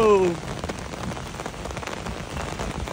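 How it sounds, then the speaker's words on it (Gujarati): Heavy rain pours down outside a balcony in Germany, a dense, constant patter of drops striking surfaces close by with no break. "વધો વરસાદ વધો"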